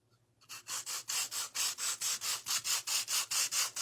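Heavy-grit sandpaper rubs lightly over a wood quilt-block kit piece in steady back-and-forth strokes, about fifteen even rasping passes, close and alone after a brief quiet start.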